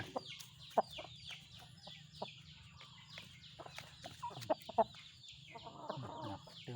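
Chickens cluck in a steady stream of short, overlapping calls, close and moderately loud, with sharper squawks standing out now and then.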